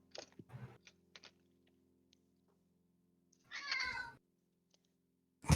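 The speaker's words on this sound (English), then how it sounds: "I found a very loud and opinionated blind cat." A loud, blind cat meows in short bursts near the mic, with one strong drawn-out meow in the middle and a sharp sound at the end. Quiet gaps separate the calls.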